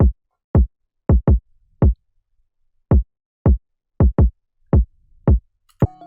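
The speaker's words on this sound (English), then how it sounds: "Then finally we have a kick, which is a pretty generic kick" Generic electronic kick drum in a hyperpop and glitchcore beat, about a dozen dry punchy thumps landing irregularly on and off the beat, moderately loud with silent gaps between hits.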